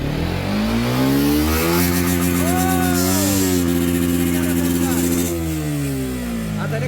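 A motorbike engine revs hard and climbs in pitch as it is held in first gear for a speed check. The sound is loud, close and continuous, with people talking over it.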